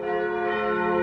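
Church bells ring along the Harz monastery hiking trail near Blankenburg, giving a steady, loud, sustained metallic peal with rich overlapping tones that hums on without pause.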